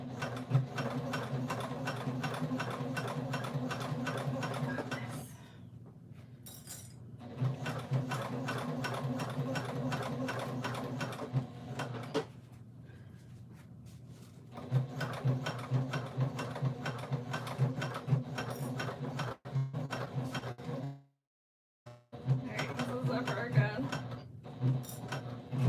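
A sewing machine stitches through stacked backpack layers of foam, waterproof canvas and interfaced canvas, running in long steady mechanical bursts separated by brief pauses.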